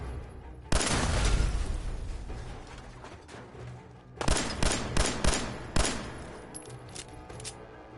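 Gunfire in the Fallout 4 video game, opening with a loud sustained burst, then a series of sharp separate shots in quick succession, followed by fainter scattered pops, with no talking.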